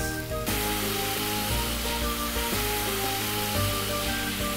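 Tomatoes tipped into a pan of frying onions, garlic and ginger, setting off a loud, steady sizzle and hiss that runs without a break, with a hum underneath.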